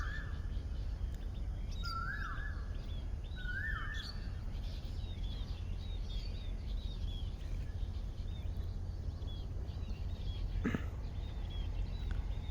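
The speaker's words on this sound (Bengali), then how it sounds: "স্নিগ্ধ সকাল, কোকিলের ডাক" Morning birdsong with an Asian koel calling: a few rising whistled phrases early on, then scattered chirps over a steady, loud broadband hiss of background noise.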